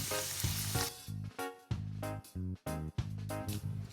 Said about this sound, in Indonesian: kita mulai oseng-mengoseng, diawali dengan bawang putih